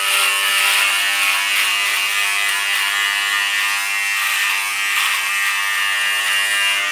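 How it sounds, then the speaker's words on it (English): A Philips Norelco beard trimmer fitted with a number 2 guard gives a steady, close electric buzz that runs unbroken and even in loudness from start to finish. "This is the trimmer that I use. It is Philips Norelco. I use a number 2 gauge on it."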